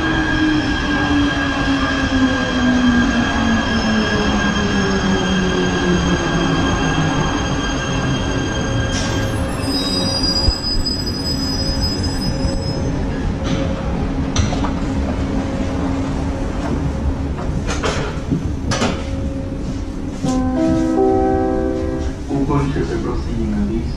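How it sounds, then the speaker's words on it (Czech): A metro train pulls into an underground station, with a long steady rumble, rising and falling tones and brakes squealing high near the end. Faint voices are heard in the background. "příjezd vlaku na nádraží"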